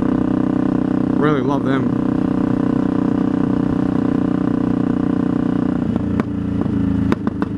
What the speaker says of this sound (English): I'll run the Delkoviches on the road, because those Delkovich pipes, they sound good.